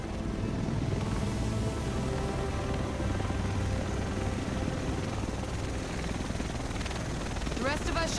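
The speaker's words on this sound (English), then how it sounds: "The rest of us should be in this chopper." In The Division, a helicopter arrives with a steady rotor chop and engine roar that holds throughout, while a voice talks over it and a few sharp tonal sweeps come near the end.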